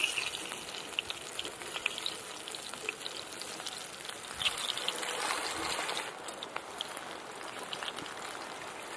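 Pieces of aar fish frying in hot oil, two at a time, give a steady crackling sizzle that runs unbroken throughout, with small pops scattered across it and no voices.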